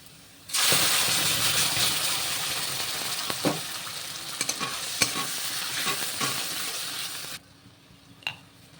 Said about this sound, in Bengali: পেঁয়াজটা লাল করে ভেজে নিয়েছি এবার এর মধ্যে দিয়ে দেবো পটল বাটাটা